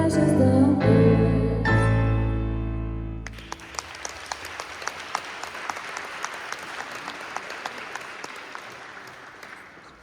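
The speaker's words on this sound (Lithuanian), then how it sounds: "Plojimai Skaistei." Applause rises after a sung ending for Skaistė at a festive school concert: a few seconds of tonal music fade as steady clapping takes over and carries on, gradually thinning out.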